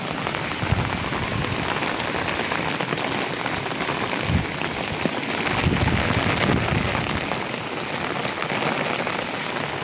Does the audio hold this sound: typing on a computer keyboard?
no